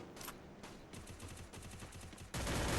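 Gunfire from the Free Fire video game rattles in quick automatic bursts throughout, with rapid repeated shots and a louder, denser volley near the end.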